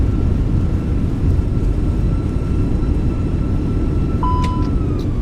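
Thrust reversers on an Airbus A320 (Fenix A320) roar after landing in Microsoft Flight Simulator. A loud, steady, broadband rumble runs throughout, with a brief tonal chirp near the end and no talking.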